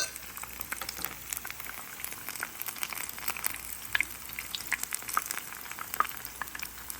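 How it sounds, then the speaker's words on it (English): Onion rings frying in a small 10-inch fry pan, a steady soft crackling sizzle with scattered sharp pops and spits, fairly quiet and without talk. "I'm just going to fry up a bunch of these"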